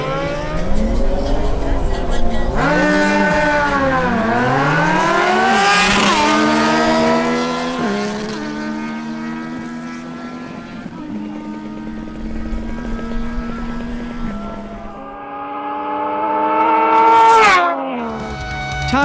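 Yamaha MT-09 and Suzuki GSX-S750 motorcycles in a drag race, engines screaming up through rising revs with repeated gear shifts, loud and close, with a sharp final rev burst near the end and a voice talking over it.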